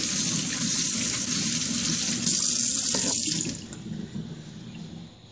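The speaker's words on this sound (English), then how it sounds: "Just wash my hand." Hands being washed under a running kitchen tap during cooking prep, a steady loud rush of water for about three seconds that then softens and thins as the flow changes.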